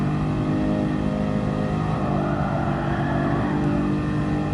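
A Mercedes-AMG Black Series car accelerates through the gears on the Nürburgring, giving a loud, steady engine roar heard from close by inside the car, with no one speaking.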